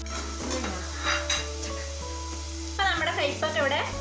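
Bitter gourd pieces frying in hot oil for a curry, giving a steady close sizzle with a low hum, while a voice speaks in the second half.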